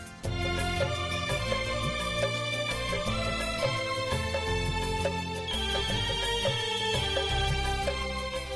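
A phone's ringtone plays continuously as a loud, busy melodic tune with rhythmic repeated notes, close and clear, filling the whole stretch without talk.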